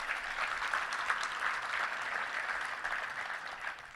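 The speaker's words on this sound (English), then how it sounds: "Let's give them a round of applause." Sustained audience applause fills a banquet hall at a touchdown club luncheon, a steady, moderately distant wash of many hands clapping at once with no voices on top.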